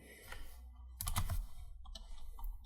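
Typing on a computer keyboard, a few scattered clusters of soft key clicks close to the microphone, quiet and irregular with short pauses between bursts.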